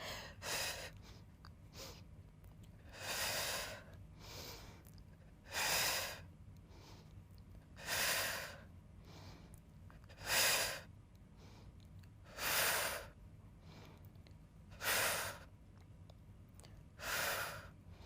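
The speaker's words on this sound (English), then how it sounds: "exhale, inhale, exhale, inhale" Rhythmic breathing during a Pilates abs and arms workout, with slow, audible breaths in and out repeating at a steady pace of about one every two to three seconds, close and alone without talk.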